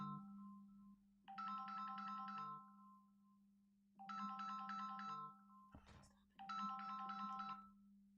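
A mobile phone ringtone plays a bright, repeating melodic phrase three times in a row, loud and close, with brief pauses between the bursts.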